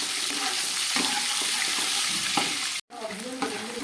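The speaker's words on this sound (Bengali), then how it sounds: "পনিরগুলো সাদা তেল আর বাটারের মধ্যে আমি ভেজে নিলাম" Salted paneer pieces fry in white oil and butter, giving a steady broadband sizzle with occasional clinks of stirring; there is a brief silent gap near the end before the frying hiss resumes.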